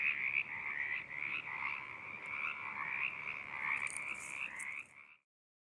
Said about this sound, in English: People often call the California tree frog a chorus frog, due to their haunting mating call.